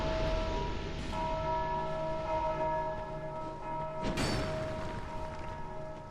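Bell tolling in Dark Souls II amid an undead crypt, with sustained ringing tones layered over steady ambient game noise, plus a brief sharper burst near the end.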